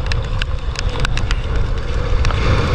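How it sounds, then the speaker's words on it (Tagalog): Strong wind buffets a fishing boat at sea during a storm, a loud, steady roar of gusts with scattered creaks and knocks throughout, no voices. "Lakas ng hangin."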